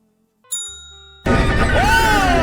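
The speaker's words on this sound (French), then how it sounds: "Ring the bell." Service bell struck in a video game, one bright ding that rings out and decays, followed abruptly by loud game audio with a swooping tone.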